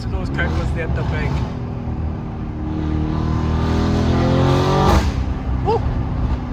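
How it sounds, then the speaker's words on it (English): A Novitec-tuned Lamborghini Urus with a loud custom exhaust rumbles steadily from inside the cabin, with crackles and pops near the end as voices talk excitedly over it. "Listen to those crackers there at the back."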